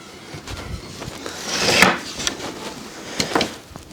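Wooden garden chairs are shifted and set out on grass, giving a few scattered knocks and clacks with a louder creaking scrape in the middle, close and unaccompanied by speech.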